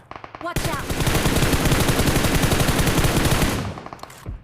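Rapid automatic gunfire in the video game PUBG Mobile, a loud continuous burst lasting about three seconds, framed by a few single shots before and after.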